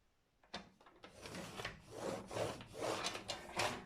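Paper creased with a bone folder, repeated close rubbing and scraping strokes in a steady rhythm, faint and dry, with no talking.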